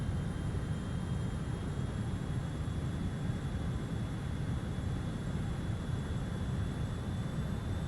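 An RJ85 airliner approaching the runway in Microsoft Flight Simulator gives a constant loud jet engine drone with a broad rushing hiss and faint high whine, steady and unbroken throughout.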